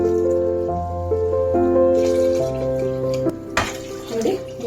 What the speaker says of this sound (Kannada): ಇದಕ್ಕೆ 3 ಲೋಟ ನೀರು ಹಾಕೊಳ್ಳೋಣ